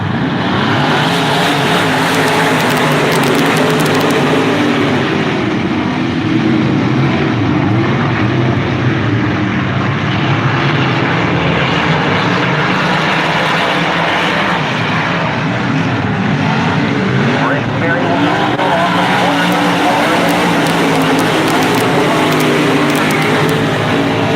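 Modified race cars roaring around a short track during a heat race at PRP, a loud continuous engine drone that swells and fades as cars pass, with no talk over it.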